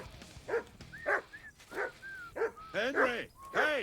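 Close, insistent barking from a dog in the video game Kingdom Come: Deliverance II, six or seven sharp barks in quick succession with brief gaps and faint tones between them.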